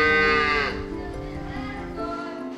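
A cow moos loudly and close on a dairy farm, one long falling call that fades into a quieter lowing with farm background noise.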